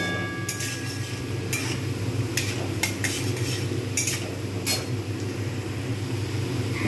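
Pabda fish frying in a pan over a raised gas flame, a steady close sizzle with scattered sharp clinks and scrapes of a utensil stirring against the pan.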